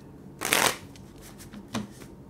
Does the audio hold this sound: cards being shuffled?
yes